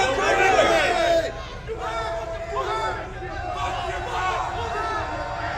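Crowd noise at a neo-Nazi rally in Little Rock, a dense swell of many overlapping voices shouting and chattering, loudest at the start and then settling into a steady, rowdy hubbub with individual voices rising above it.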